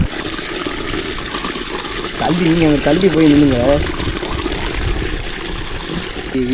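Water pouring into a rat burrow during an old-style rat hunt, a continuous splashing, trickling flow with people talking over it nearby.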